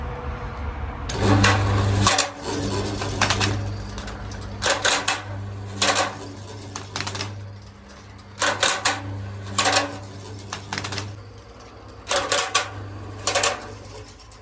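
A metal roller shutter with broken springs rattles and clatters in repeated bursts over a steady low motor hum, with brief quieter gaps between bursts.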